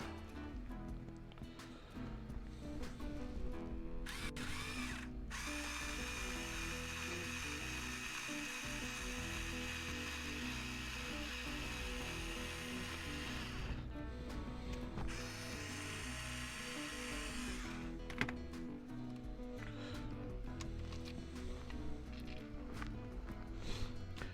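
A powered screwdriver drives long screws on a Traxxas TRX4 RC truck during a rear axle swap, giving a loud continuous ratcheting whir with a few short pauses between runs.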